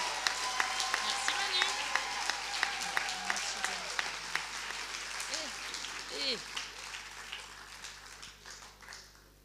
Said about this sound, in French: je voudrais qu'on fasse un tonnerre d'applaudissements pour notre amie Mathilde